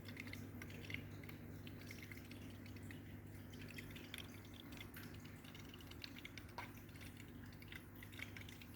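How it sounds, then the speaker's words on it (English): Faint, steady bubbling and trickling water in a planted aquarium as air bubbles are chopped up by the flow, a soft continuous wash with light drips throughout and no talking. "you can hear the air bubbles getting chopped up slightly"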